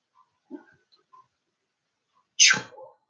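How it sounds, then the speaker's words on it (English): A single sharp sneeze, close and abrupt, preceded by a few faint breathy sounds in an otherwise quiet room. "Bless you, my child, for you have sneezed."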